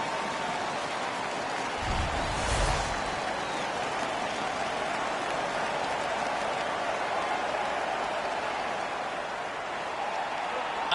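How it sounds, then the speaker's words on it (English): A roaring hockey arena crowd in NHL 15 cheers steadily after a fight, a dense sustained wash of noise with a brief louder swell near the start. "The crowd is ecstatic."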